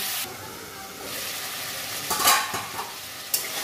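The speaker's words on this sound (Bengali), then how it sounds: "ছোট্ট চামচে 1 চামচ জিরেটা আমি ভালো করে কষে নেব।" Cumin seeds sauté in a small pan, giving a close, continuous sizzle broken by a few sharp scrapes and clinks of a stirring spoon toward the end. No one speaks.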